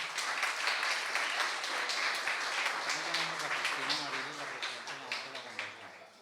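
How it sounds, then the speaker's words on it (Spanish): Strong, sustained applause from an audience at an award ceremony, fading slightly toward the end as a voice begins speaking beneath it. "Un fuerte aplauso para ellos."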